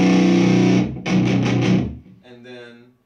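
Distorted guitar tone from the ADFX hardware effects unit, a loud buzzing chord that cuts off, strikes again in pulsing bursts, then gives way to a softer, cleaner ringing tail.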